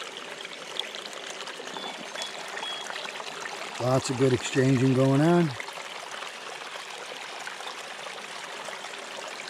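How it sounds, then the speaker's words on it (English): Water running through a Gold Hog multi sluice in a field test, a steady stream-like wash roiling back on itself that continues throughout, with a short burst of talking partway through. "See how that water roils back on itself?"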